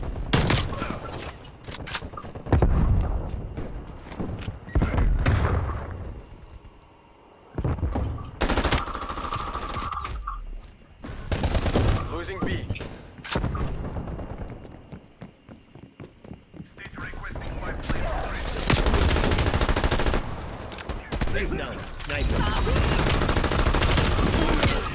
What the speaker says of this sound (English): I shot him in the back multiple times